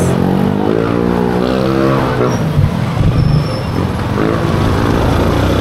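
Heavy road traffic rumbles loud and steady from inside a vehicle stuck in slow-moving congestion, with engine drone and passing cars blending into a continuous low roar and a faint voice underneath.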